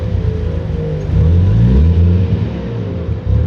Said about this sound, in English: I think I'm out of gas. Do you wanna go to the gas station? It's like bogging down.